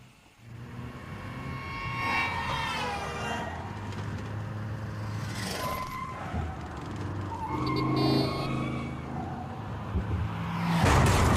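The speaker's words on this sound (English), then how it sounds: "drive against traffic in a fast-moving car with no brakes" A car engine revs and whines continuously with rising and falling pitch, tires occasionally squealing, with no talking.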